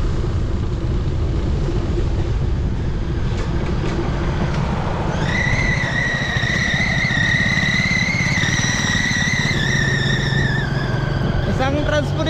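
A motorcycle-based local transport called a skate rumbles past close by, its steady engine drone joined midway by a rising whine, with street noise around.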